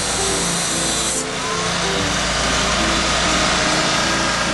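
A concrete delivery truck runs its engine at a home kitchen addition build site, giving a loud, steady mechanical drone with a constant low rumble and no talk.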